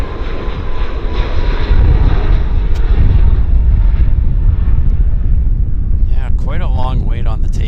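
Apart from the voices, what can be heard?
airliner on its takeoff roll at Vancouver airport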